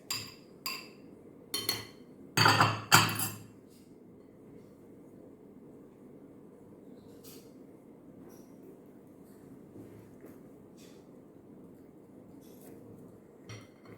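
A whisk beats eggs and other wet banana bread ingredients in a bowl: a handful of quick bright metallic clinks and rattling taps, close and fairly loud at first, then long near-silence with a few faint scattered clicks.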